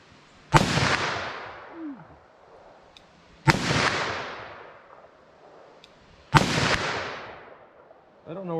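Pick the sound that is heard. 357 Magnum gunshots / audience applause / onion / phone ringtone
357 Magnum gunshots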